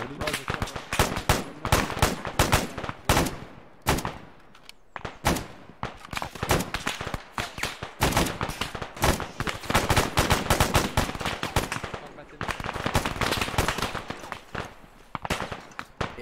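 Dense, nonstop gunfire fills a military firefight in Arma 3: rapid automatic bursts and single cracks overlap, loud and close throughout, while voices call out over the shooting.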